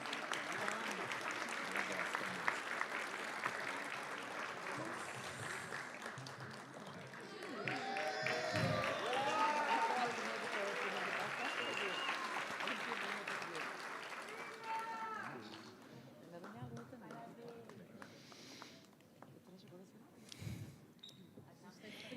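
Audience applause at an essay and drawing award ceremony, a sustained wash of clapping that swells in the middle and fades toward the end, with speech and music-like tones mixed in.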